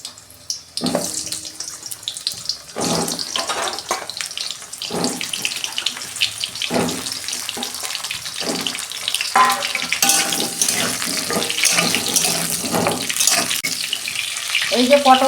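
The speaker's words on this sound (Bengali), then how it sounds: "এই যে আমি পটলগুলো ভেজে নেব।" Halved pointed gourds (potol) frying in hot oil in a wok, giving a steady, close sizzle broken by louder crackling bursts and clatters, with no talking.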